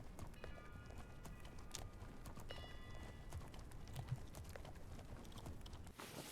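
Horse hooves clip-clopping in the video game The Legend of Khiimori, a steady quick run of hoofbeats with light tack jingling, moderately loud and continuous, with no talk over it.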